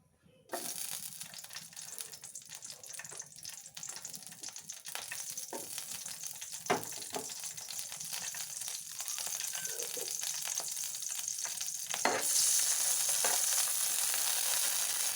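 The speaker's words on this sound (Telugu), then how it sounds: "ప్యాన్ బాగా హీట్ ఎక్కిన తర్వాత కట్ చేసి ఉంచుకున్న పచ్చిమిరకాయలు వేద్దామండి" Chopped green chillies hit hot oil in a well-heated pan and burst into a loud, continuous sizzle that holds steady with occasional stirring clicks, flaring brighter toward the end; no voices.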